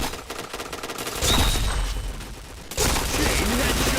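Heavy gunfire in a multiplayer shooter game, dense sustained volleys of loud crackling shots in two long bursts separated by a short lull, with voices talking faintly underneath.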